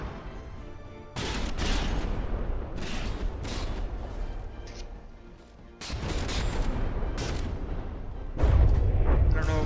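Artillery shells firing in the naval combat game From the Depths during a Varluk versus St Augustin battle, a run of heavy booming salvos in steady bursts with brief lulls and a louder blast near the end.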